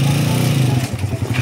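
A learner rider opens the throttle on a motorcycle, and the engine revs loud and close in a short, rough burst.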